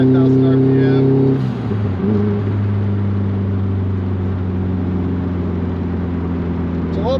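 A Nissan GTI-R engine runs near 5,000 RPM and sounds like it's breaking up, with a loud, uneven droning note that dips and wavers after a second, heard close with no speech.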